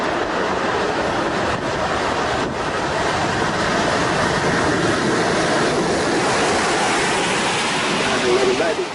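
Steady, heavy torrential rain pours across an airport runway under a deep low-pressure system, a dense, unbroken wash of noise that stays loud and constant throughout.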